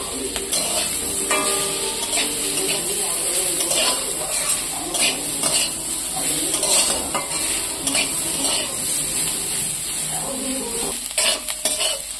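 Large chopped onions tossed into a pan with half-fried pointed gourd, sizzling loudly and steadily while a utensil scrapes and clatters against the pan, close up with no talking.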